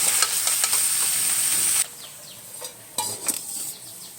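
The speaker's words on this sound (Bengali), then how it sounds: "এবার বাঁধাকপি কুচিগুলো আমি কড়াইতে দিয়ে দেবো। একটু নাড়াচাড়া করে" Shredded cabbage goes into a hot wok with a loud hiss that drops off quickly, followed by quieter stirring, with utensil scrapes and clinks against the metal.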